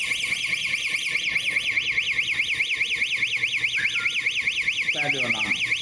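A triggered car alarm wails close and loud in a fast, steady, rising and falling siren that runs the whole time. Brief speech is heard near the end under the siren.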